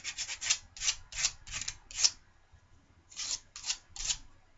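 Handmade knife scales are sanded with 60 grit sandpaper in quick rhythmic rasping strokes, a burst of about eight close scratches, a pause, then three more.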